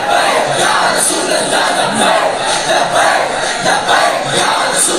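A large crowd loudly chants a religious slogan in unison at a Shab-e-Qadr sermon gathering, a dense, continuous roar of many voices rising in waves throughout.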